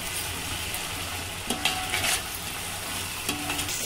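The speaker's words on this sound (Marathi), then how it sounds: "त्याने मसाल्याला मग अद्रक लसूण आणि मिरचीला आपण मिक्स करून घेऊया" Ginger-garlic paste and green chili paste are stirred into frying masala for chicken biryani, making a constant close sizzle broken by a few spoon scrapes and light clinks against the pan. No one speaks.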